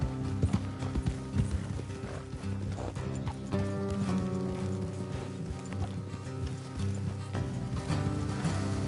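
Horse hooves clip-clop steadily at a trot on a dirt road in the video game Red Dead Redemption 2, close and continuous over a low musical score, with an occasional whinny.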